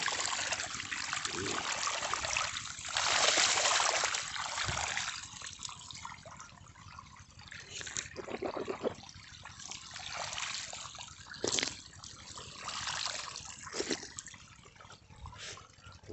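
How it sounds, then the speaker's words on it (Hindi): Water falls and trickles steadily across a grassy field after being carried from far away, a continuous splashing flow with brief louder surges, fairly close. "यहाँ आके पानी गिर रहा है।"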